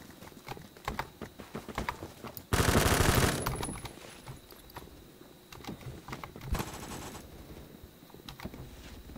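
K2 rifle firing in the Phantom Forces video game: rapid bursts of automatic fire with sharp repeated cracks, plus one loud sustained stretch of shots, no talking.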